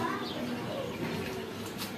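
Soft pigeon cooing in a busy outdoor setting, low murmuring calls continuing steadily with background noise throughout.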